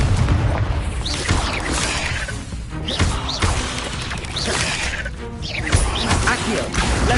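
A Confringo blasting spell goes off in Hogwarts Legacy, loud crashing booms and whooshing impacts repeating in quick succession amid dense battle effects.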